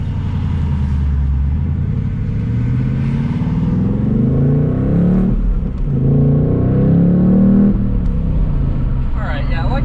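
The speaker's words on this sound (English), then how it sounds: "This is track exhaust mode, but the car itself is in normal mode." A 2024 Mustang Dark Horse accelerating with its exhaust in track mode, a loud deep rumble that swells and drops between gears, with someone talking over it.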